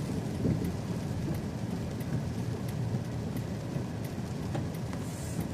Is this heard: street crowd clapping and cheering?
no